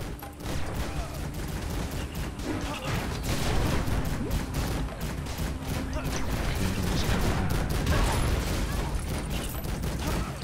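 A cannon fires in Lego Marvel Super Heroes, with steady booming gunfire and mechanical clatter running loud and dense throughout, under a voice.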